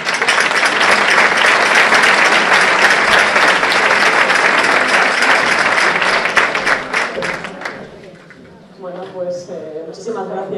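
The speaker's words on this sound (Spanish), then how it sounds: "La recibimos con un aplauso." An audience at a village Águedas festival gathering in Torrecilla de la Orden gives a loud, sustained round of applause for about eight seconds. It then fades out, and a voice speaks over a public address system.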